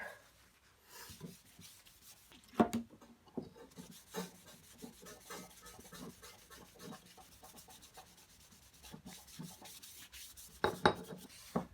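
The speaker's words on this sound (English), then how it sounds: "Use a shop cloth and just start to wipe stuff off." Shop cloth rubbing dirt and grime off a small hatchet, soft repeated scrubbing strokes with a few sharper knocks, quiet and close.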